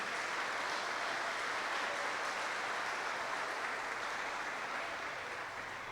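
A church congregation breaks into applause, a dense, steady wash of many hands clapping together that fades slightly toward the end.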